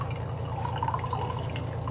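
Water drips and trickles steadily as freshly made homemade paneer is wrung out in a cloth in a kitchen, a continuous soft liquid patter over a low background hum.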